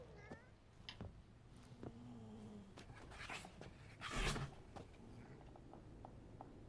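A cat in the video game Witcher 3 gives several soft, short meows over a quiet game backdrop, with one louder, drawn-out cry partway through.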